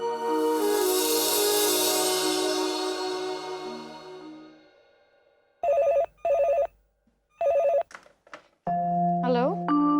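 A telephone call placed home: a decaying ringing tone, then several short beeps of dialing, and a ringback tone at the end, with no voices.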